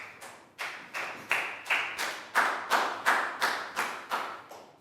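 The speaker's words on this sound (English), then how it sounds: "Big round of applause for Prel." A classroom claps in unison for a student, about eleven evenly spaced collective claps ringing out in a steady rhythm, with no talking.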